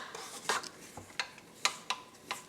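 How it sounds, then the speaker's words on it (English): A spatula scraping down a mixing bowl of creamed cake batter, a series of sharp separate scrapes and clinks against the bowl at an irregular rhythm, close and fairly quiet, with no voices. "Scrape down the bowl once again."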